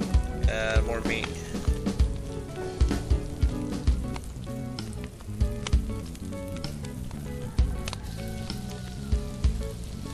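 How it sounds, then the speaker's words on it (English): Meat sizzles and crackles in a pan in the video game DayZ, with frequent sharp pops, while a person talks over it and game sounds play. "When you hear sizzling, that means it's done."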